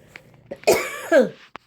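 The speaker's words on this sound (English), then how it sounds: "I don't mean to cough online." A few harsh, close coughs in quick succession, preceded by small throat sounds and followed by brief clicks.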